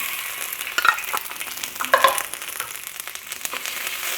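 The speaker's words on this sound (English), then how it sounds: "we're gonna put in the garlic" Garlic and ginger fry in avocado oil with a soft continuous sizzle, punctuated by two brief brighter crackles as the pan is stirred.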